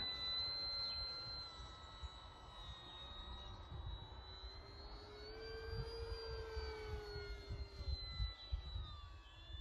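An E-flite P-47D 1.2m RC model plane flies at a distance, its electric motor whine rising and falling in pitch across about ten seconds over steady outdoor background noise.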